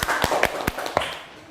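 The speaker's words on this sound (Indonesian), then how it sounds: "Tepuk tangan untuk kelompok 4." A handful of people in an elementary school classroom give sparse applause, about half a dozen distinct, sharp claps spaced unevenly and fairly close, rather than a full round of clapping.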